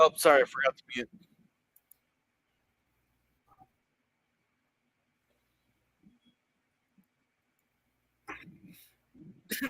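A single sneeze bursts out near the start, right after a short spoken remark, followed by near silence with faint clicks and then more voices at the end.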